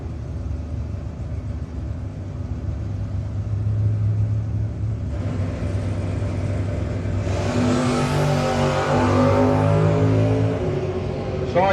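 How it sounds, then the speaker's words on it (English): Drag racing cars, including a first-generation Camaro, rumble at a racetrack during a No-Box 660 shootout, a loud steady engine drone that swells into a harsh high-revving roar as they launch down the strip. "Lehman in the Hammer Time Camaro"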